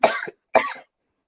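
Two sharp, close coughs in quick succession, loud and separated by a brief pause, followed by silence.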